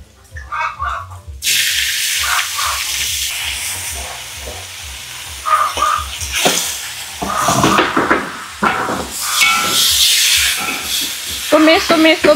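Pork meat goes into a hot wok for stir-frying in a soy-sauce tofu dish: a sudden loud sizzle that settles into a steady hiss, with rhythmic stirring clatter and scraping, close up.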